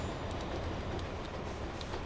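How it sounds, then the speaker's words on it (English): An iron ore freight train running in the Transport Fever 2 video game, a continuous steady rolling rumble with faint clicking wheel sounds, moderately quiet and unbroken, with no talk. "We've got another iron ore train."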